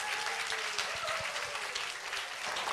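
An audience at a concert gives steady applause, a dense continuous clapping that fills the short moment without pause.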